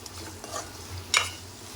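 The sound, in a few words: stirring dry coconut powder into bitter gourd tomato curry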